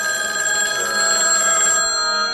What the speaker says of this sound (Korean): 언니 글래디에게 전화를 걸지만 그녀는 외출 중이었고